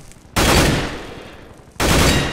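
Gunfire in Counter-Strike: Global Offensive, fired in short controlled bursts on a weapons training course: two loud, dense broadband volleys, the first lasting over a second and the second starting near the end, close and with no voices.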